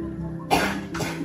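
Two harsh coughs in quick succession, close by, the first stronger than the second, over a faint background hum.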